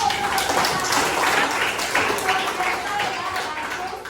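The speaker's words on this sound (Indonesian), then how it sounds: "Oke, tepuk tangan untuk hari ini." Students in a Catholic religious education class applaud together in the classroom, a moderate wash of clapping lasting several seconds with voices faintly underneath.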